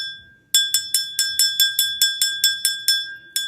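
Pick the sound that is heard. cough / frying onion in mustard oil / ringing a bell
ringing a bell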